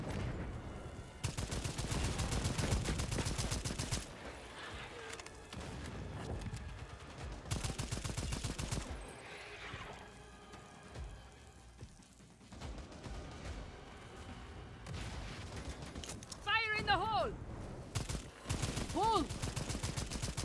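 Grenade explosion and gunfire in the co-op shooter Second Extinction against dinosaurs: sustained bursts of rapid weapon fire and heavy blasts, with a creature roaring and people talking over the din.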